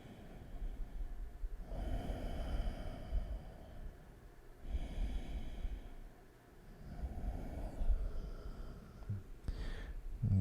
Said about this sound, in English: And extend the exhale.